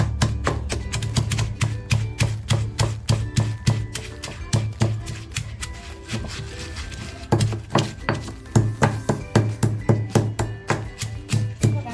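Green chillies, garlic and ginger are worked finely for masala with steady, fast, close knocking strikes that pause briefly midway and then resume at the same brisk rhythm.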